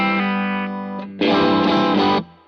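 An electric guitar plays through a new Fender distortion pedal set for just a hint of distortion: sustained chords ring out, then a louder, brighter strummed chord swells and stops abruptly.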